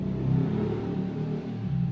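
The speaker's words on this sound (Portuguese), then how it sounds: "Moto." A motor vehicle engine rumbles steadily nearby for a couple of seconds, a low droning pass with slight rises in revving, alone without talk.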